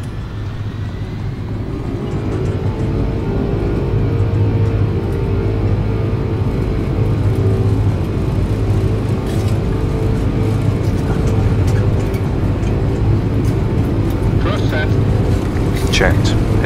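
Boeing 747-200 with RB211 engines in X-Plane 11 spooling up to takeoff thrust at EGLL, a loud, steady, rising roar with a low drone, continuous throughout.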